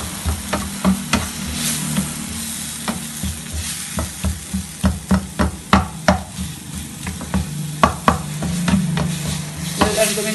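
Tomato and masala sauté in a pan for Kerala fish pollichathu: loud continuous frying sizzle broken by a quick run of rhythmic spatula scrapes and taps against the pan, close up and without voices.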